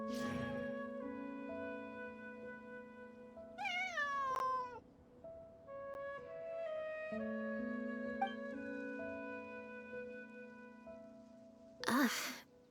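A cat meows several times in Genshin Impact, with rising and falling tonal calls standing out over soft background game music, including a short sharp meow near the end.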